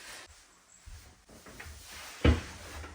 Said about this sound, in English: I have changed all the hinges as well to slow close hinges